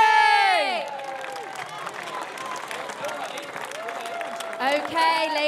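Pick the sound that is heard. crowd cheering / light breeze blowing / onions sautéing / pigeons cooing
crowd cheering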